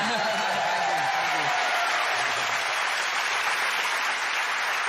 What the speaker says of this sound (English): Would you like to give somebody else a clap?